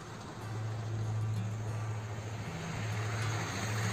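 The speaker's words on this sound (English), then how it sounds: "Excuse the tractor, rural France." A tractor passes by on a rural road in France, its low engine drone steady and moderately distant, rising slightly and holding for a few seconds with no talk over it.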